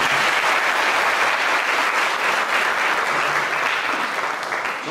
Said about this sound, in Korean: 박수 좀 보내주십시오.